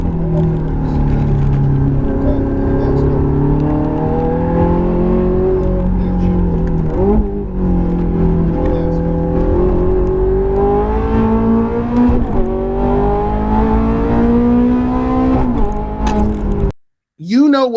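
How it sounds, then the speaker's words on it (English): A Ferrari car engine revs continuously at close range, a loud steady tonal drone with pitch rising and falling through several climbs, briefly cutting off before a short final rev. "The sound of the engine is how the car talks to you."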